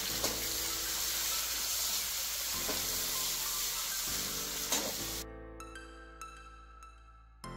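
Chopped onions dropped into hot oil with bay leaf and cumin, sizzling loudly and steadily up close, with occasional stirring clatter, before the frying sound drops away to quieter background noise.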